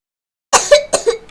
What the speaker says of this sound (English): You cover your mouth and you cough.